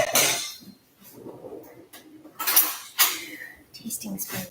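Tasting spoon clinking against pots and dishes, a series of bright metallic clinks and clatters in uneven bursts, close by, with talking in between.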